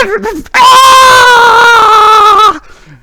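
A person's voice imitates a scream from the top of a pillar in a fantasy tale with dragons: one loud, sustained, high wail lasting about two seconds, then cut off.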